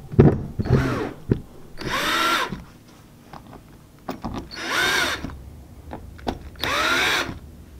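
Power drill driving screws through a Topper dinghy hull while fitting a self-bailer, in several loud whining bursts of a few seconds each, separated by short pauses and clicks of handling.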